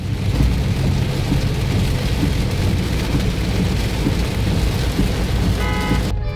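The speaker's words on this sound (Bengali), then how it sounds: "এই ঝড় বৃষ্টির মধ্যেও রং সাইড দিয়ে গাড়ি আসতেছে" Heavy rainstorm with thunder on a highway between Cumilla and Dhaka, a loud, dense, unbroken roar of rain with rumbling thunder throughout and no voices.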